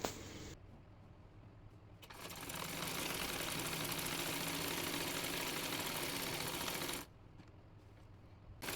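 A sewing machine stitches elastic onto a salwar, whirring in short bursts and then running steadily for several seconds before stopping, close and fairly loud with no voices.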